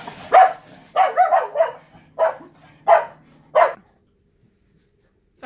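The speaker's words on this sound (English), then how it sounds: "the dogs heard something bump and bang and got all freaked out" Several dogs bark in a quick, uneven series of close, loud barks indoors, agitated by banging noises on a windy day, then fall quiet.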